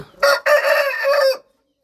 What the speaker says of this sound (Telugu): ఇది ఒక కోడి పింగళ